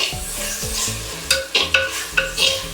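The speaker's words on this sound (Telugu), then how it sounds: "ఇది బాగా కలబెట్టుకోవాలన్నమాట ఒక టూ మినిట్స్ పచ్చి వాసన పోయేదాకా" A spoon stirs fresh homemade spice paste frying in a pan for country chicken curry, giving a continuous close sizzle broken by several loud scraping strokes against the pan.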